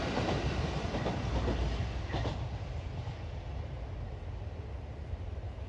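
A freight train passes on a railway line between Collingham and Swinderby, making a loud, continuous rumbling roar with rhythmic wheel clatter that eases slightly as it goes on.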